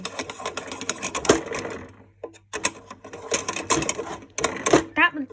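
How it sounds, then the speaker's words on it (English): A toy Hoover washing machine with its drum being turned by hand gives off a rapid run of plastic clicks and rattles in bursts with short pauses, close and fairly loud. "That's turning the drum inside."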